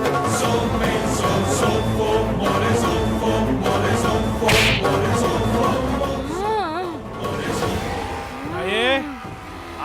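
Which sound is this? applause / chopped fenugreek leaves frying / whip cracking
whip cracking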